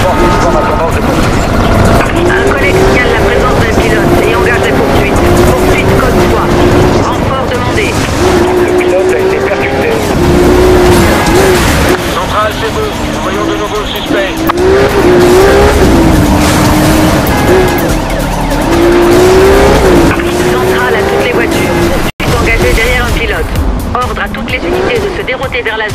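Engines roar continuously through a police pursuit in Need for Speed Rivals on PS4, with revving, occasional tire squeal and skidding, loud and steady throughout, with a sharp cut near the end and game voice chatter layered over it.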